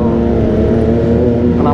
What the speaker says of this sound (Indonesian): Knalpot baru nih tuh, SG Project, SG Captain America, knalpot baru SG Project tuh